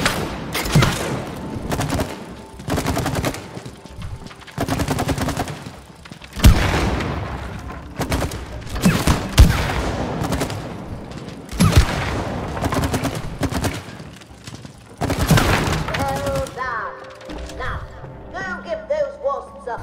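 A shooting range in the video game It Takes Two rings with loud, repeated bursts of rapid gunfire and heavy booming shots. Brief pauses break the volleys, and the firing thins out toward the end.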